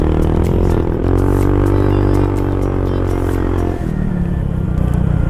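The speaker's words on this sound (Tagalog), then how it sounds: "Ganda talaga yung tunog dito ng Silent Killer." A Rusi GY6 125 scooter-style motorcycle fitted with a Silent Killer aftermarket exhaust runs nearby with a loud, steady engine drone and rising revs, the pitch shifting sharply near the end as it lets off and picks up again.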